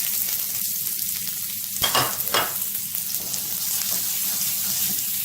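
Garlic and ginger hitting hot olive and rapeseed oil in a pan, giving a steady close sizzle with a brief louder burst of spitting as they go in.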